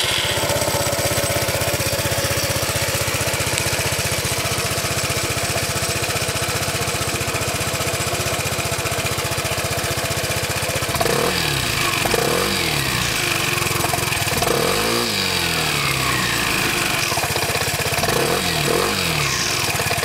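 A Vespa 300 GTS scooter with its stock exhaust, cold-started and idling nearby, gives a steady, loud, chugging drone, with a few throttle blips rising and falling in pitch during the second half.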